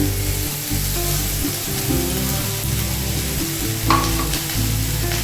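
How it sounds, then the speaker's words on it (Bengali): Snake gourd, potato and onion frying together in a pan, a continuous hissing sizzle with stirring scrapes and a sharper spatter near the end, close and alone. "চিচিঙ্গা, আলু আর পেঁয়াজ সব একসাথে দিয়ে দিলাম।"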